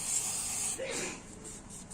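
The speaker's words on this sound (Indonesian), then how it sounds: "Kita semprot" Cleaner sprayed onto the secondary CVT pulley of a motorcycle after riding through floodwater, a hissing burst that fades into softer, intermittent spurts.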